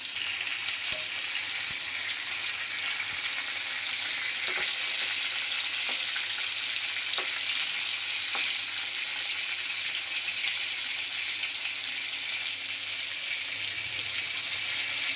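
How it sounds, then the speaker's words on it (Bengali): Pointed gourds (potol) frying in a pan, a steady bright sizzle with faint scattered clicks as pieces are flipped, no talk. "এখন পটলগুলোকে উল্টো করে দিচ্ছি।"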